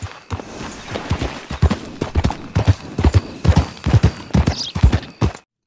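Rhythmic horse hoofbeats in the video game Red Dead Redemption clip-clop at a steady walking pace, crisp and close, continuing for several seconds before cutting off abruptly.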